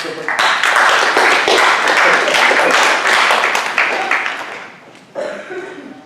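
An audience claps for a presenter in a steady burst of applause that fades out, then picks up briefly again, with some chuckling mixed in.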